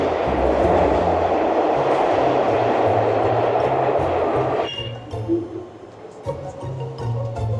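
A New York City subway train rumbles past loudly with rattling wheels for several seconds, then the roar drops to a lower hum with some clanks and screeches.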